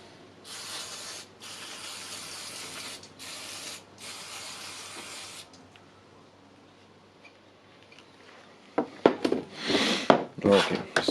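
Cleaner sprayed in several long hissing bursts onto the speed changer parts of a Makita DDF482 cordless drill, followed by quieter handling, then louder clattering and rubbing of the parts.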